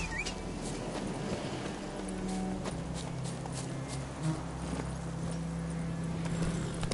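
Horse galloping in The Witcher 3, rapid rhythmic hoofbeats clip-clopping steadily throughout, fairly close, over a low droning background, with no speech.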